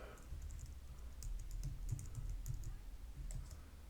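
Fingers type a web address on a computer keyboard, a quick scatter of light, soft key clicks in short bursts over a low room hum, close by with no voices.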